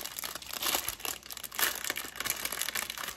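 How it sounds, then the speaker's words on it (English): Plastic bag of diamond painting drills crinkling and rustling close up, a continuous bright crackle with louder bursts as it is handled, no talking. "Sorry for the crinkling, but I love it."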